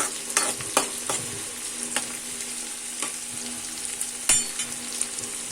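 Onion pieces and curry leaves stirred as they fry in a pan, a steady close sizzle punctuated by sharp spatula taps and scrapes every second or so, one louder knock near the end.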